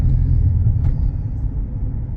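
A 2018 Dodge Challenger engine rumbles low and steady while driving, heard from inside the cabin as a constant, fairly loud drone with no talk.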